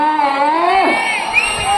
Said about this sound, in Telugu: రావాలా జనాల్లో కేకలు రావాలా